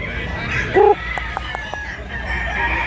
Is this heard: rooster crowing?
yes